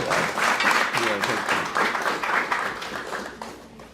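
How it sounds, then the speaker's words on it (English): Steady applause from an audience, dense clapping filling the space for several seconds before starting to taper off. "I think he needs the applause."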